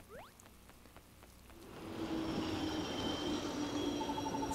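A local train ride in the Yokai Watch 2 video game: a few short rising chimes give way to a swelling, steady rumble of a moving train carriage that holds loud and continuous, with no voices.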